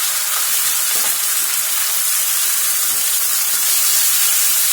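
Green peppers and tomatoes sizzle and fry in a pan for chicken shawarma, a loud continuous crackling hiss close up with faint stirring knocks underneath.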